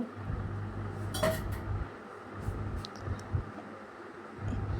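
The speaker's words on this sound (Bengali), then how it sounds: "আলু দিয়ে নাড়ছে এবার।" Potatoes being stirred into meat curry in a pot, with soft scraping and clinking of a utensil against the metal over a steady low hum, plus a brief sharper clank near the start.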